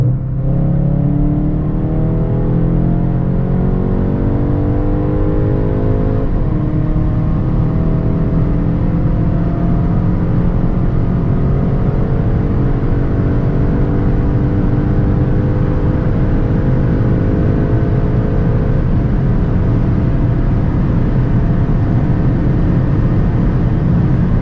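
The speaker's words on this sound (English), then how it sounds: "So let's now see how fast the car goes from 100 to 200." Skoda Octavia RS with 245 hp accelerating from 100 to 200 km/h, a loud, steady engine roar climbing in pitch through several gear changes over heavy road and wind noise, heard from inside the car.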